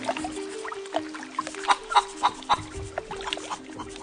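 Short clucks from a chicken, a handful of sharp, uneven calls clustered in the middle over a faint steady hum, fairly quiet.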